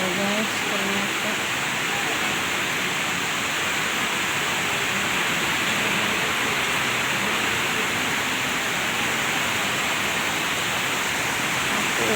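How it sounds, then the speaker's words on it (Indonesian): Steady, loud roar of a waterfall at its source, seen up close, continuous broadband rushing water with no pauses. "Ternyata ini loh pusat dari air terjun"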